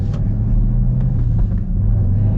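A Chevrolet Camaro ZL1 with a manual gearbox drives along, its engine a loud, continuous low rumble heard from inside the cabin with no voices.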